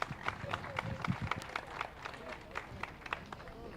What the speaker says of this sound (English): Let's give that young lady a big round of applause.